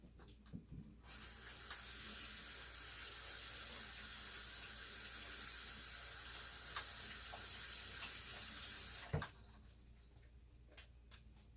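Black beans rinsed under a running kitchen tap: a steady, quiet hiss of flowing water for about eight seconds, beginning and stopping abruptly, with a few faint clinks around it and no talk.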